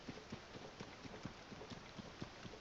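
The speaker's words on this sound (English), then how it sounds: "So now it's raining" Rain falls in The Legend of Zelda: Tears of the Kingdom as a faint, steady hiss with soft repeated patters and light ticks, quiet and continuous with no voices.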